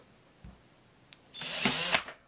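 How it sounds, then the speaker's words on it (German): A power drill bores a straight hole into wood for a homemade decorative fireplace log candle, spinning up after a couple of soft knocks into a loud, whining grind that lasts under a second before cutting off. "Und dann bohren wir uns ein gerades Loch."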